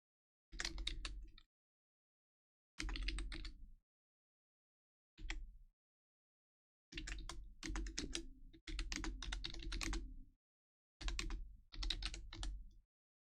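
Bursts of rapid clacking on a computer keyboard come in several separate spells with silent gaps between them, close and crisp, with no talking.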